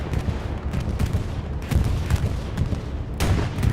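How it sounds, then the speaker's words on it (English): Bombing-run explosions in the World War II shooter Hell Let Loose, on the Kharkov map: repeated heavy booming blasts at a steady medium distance, rolling over a constant low rumble with no talk. "Bombing run on its way from the Axis."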